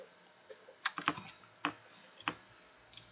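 Python code being typed on a computer keyboard: a few close, sharp keystroke clicks arriving in small uneven bursts against a quiet room, with no speech.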